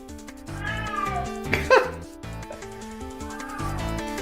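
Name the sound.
cat meowing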